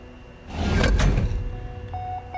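An in-game door in Minecraft Story Mode slides open with a loud mechanical grinding whoosh that swells and fades over about a second, followed by a couple of faint tonal blips; no speech.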